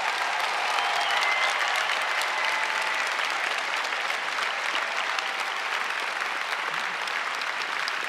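Graduates and their audience applauding at a graduation ceremony, a dense, sustained wash of clapping from a large crowd filling the room, even and unbroken from start to finish with no talk.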